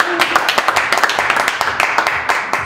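Enthusiastic applause from a conference audience at a Tupperware CIS business event, a dense, steady wash of many clapping hands close by, with a voice talking over it.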